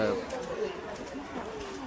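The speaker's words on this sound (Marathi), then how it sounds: "खूप प्रकारचे पक्षी आहेत।" Birds in the aviary section of Veer Jijamata Rani Bagh zoo, soft pigeon-like cooing and chatter heard beneath nearby talking, faint and steady throughout.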